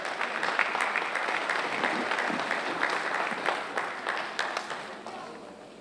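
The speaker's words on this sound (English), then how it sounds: "So, with a big round of applause, let's welcome Kiran Wangala Garu." A large audience at a fundraising event applauds, dense steady clapping filling the room that slowly tapers off toward the end.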